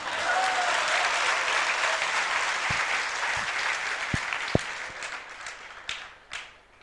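Audience applause at a Kalash Sthapna religious gathering in Dongargarh, Chhattisgarh, a dense steady wash of many hands that thins out toward the end, leaving a few scattered claps.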